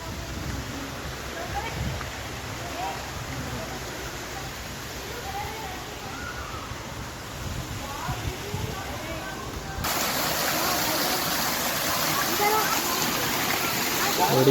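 Water flows steadily at a waterfall, a broad continuous rush that grows louder and brighter partway through, with faint voices mixed in.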